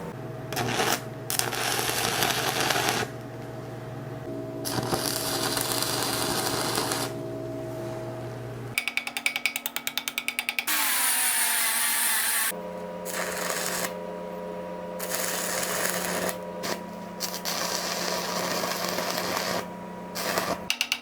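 A MIG welder joining two angle irons, producing a loud, continuous crackling buzz in long bursts separated by brief pauses, with a steady electrical hum underneath.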